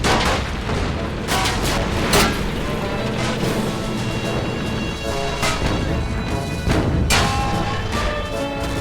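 Gunfire and explosions as a tank is destroyed in The Toy War video game, a dense run of loud blasts and shots with sharp bursts near 2 and 7 seconds.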